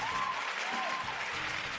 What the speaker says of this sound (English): let's give them a round of applause as they're taking their pictures